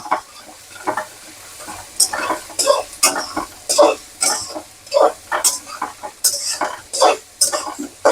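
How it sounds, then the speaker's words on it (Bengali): Onions fry in a pan for a chicken gravy while a spatula stirs them in repeated scraping strokes, each stroke loud and close over a low sizzle, with a voice talking faintly at moments. "এখন পেঁয়াজগুলো একটু ভালো করে লাল করে"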